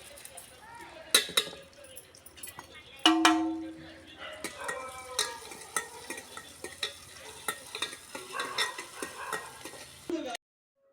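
Tempering spices frying in hot oil for sambar, with sharp crackles and sizzling bursts alongside metal stirring clinks and utensil knocks, close up, with a brief voice partway through.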